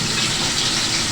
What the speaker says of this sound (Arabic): وتنزلي بقى بالخلطه اللي كانت باقيه كده اللي احنا كنا راكنينها على جنب، هننزل بيها